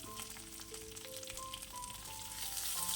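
Chopped ginger, green chillies and curry leaves fry in hot oil for oats upma, a steady close crackling sizzle that grows slightly louder, with faint tonal kitchen hums in the background.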